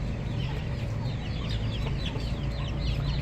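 A rooster and several hens in a home zoo, with rapid clucking and squawks layered over a constant farmyard hum, close and busy throughout with no talk.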